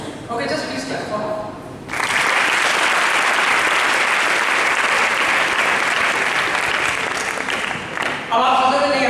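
Dense audience clapping at a public speaking seminar bursts in after a moment of quieter sound and holds steady for several seconds before tapering off near the end.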